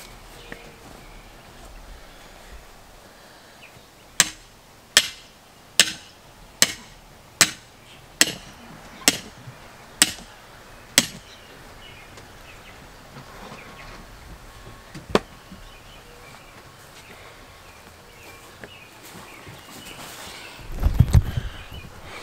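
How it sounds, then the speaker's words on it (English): A sledgehammer pounds outdoors in a garden after rain, nine sharp blows in a steady rhythm, then a single later strike and some rustling handling noise near the end. "Now it's sledgehammer time."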